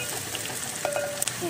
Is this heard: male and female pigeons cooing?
no